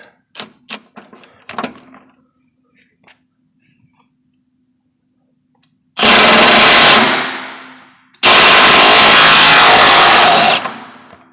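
A power tool drives a bolt during a Rough Country track bar install, running in two loud sustained bursts of whirring, the second longer, after a few faint clicks and taps and a stretch of near silence.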